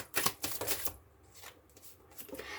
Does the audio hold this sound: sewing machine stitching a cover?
no